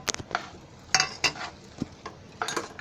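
Potatoes are tipped into a pan of cooked masala, followed by a series of scraping clinks and light knocks of a spoon against the pan, close and irregular, with no talking.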